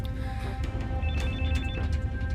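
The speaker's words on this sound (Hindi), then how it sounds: "फोन उठाओ।" Telephone ringing in a dubbed Hindi action film scene, with repeated electronic ring tones sounding steadily over a low background rumble.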